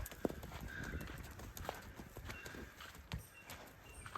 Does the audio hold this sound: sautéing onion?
no